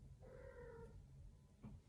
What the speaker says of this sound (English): My cat and my dog are having a fight here.